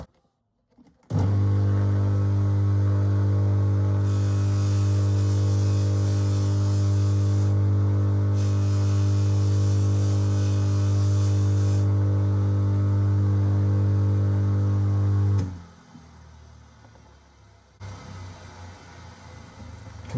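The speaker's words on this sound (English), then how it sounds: "I'm using a fine Bufflex wheel on this one" A fine Bufflex buffing wheel polishing a watch case gives a loud, steady motor-driven hum that runs unbroken for about fourteen seconds. It then cuts off and winds down, leaving quieter handling noise.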